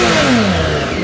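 A BMW K1600 GTL motorcycle's six-cylinder engine revs in dynamic mode, a loud, close, sustained roar with its pitch sweeping through a brief rise and fall.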